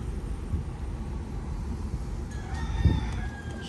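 Free-roaming chickens and a rooster in a Key West neighborhood give a clucking call and a crow, moderately distant over a steady low background rumble.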